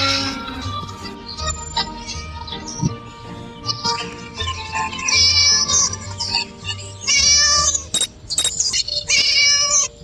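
A cartoon cat in a puzzle game meows repeatedly in high, whiny cries over game music and effects, the calls rising in several loud bursts near the end.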